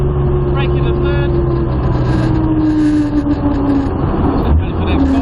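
A modified Jaguar E-type's engine drones under steady load, its note dipping on the brakes and rising as the throttle is squeezed back in, with someone talking over it the whole time.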